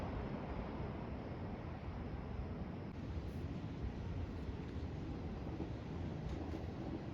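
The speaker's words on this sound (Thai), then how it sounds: "รถไฟวิ่งเนี้ยเห็นเลย" A train runs past, a steady, dense rumbling roar that holds at an even loudness for the whole stretch, with no voices over it.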